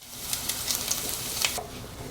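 Julienned onions fry in a pan with a steady, close sizzle broken by small crackling pops, with no talking over it.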